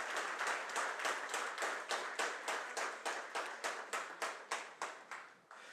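An audience in a hall applauds in steady, synchronized rhythmic claps to salute soldiers during a political address, loud and full at first and thinning slightly toward the end.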